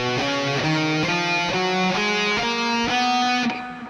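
Guitar running up a B Lydian scale shape, a steady sequence of clear picked notes, each ringing into the next, played alone and close at moderate volume.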